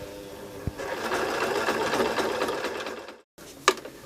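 A sewing machine stitching a seam in fabric for an earphone tidy, running in a steady close whir for a few seconds, then stopping, followed by a small click.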